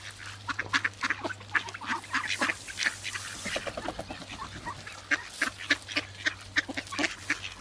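Ducks by a river quack in quick repeated bursts, loud and fairly close, over a steady low hum.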